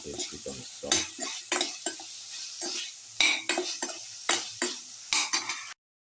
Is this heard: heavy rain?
no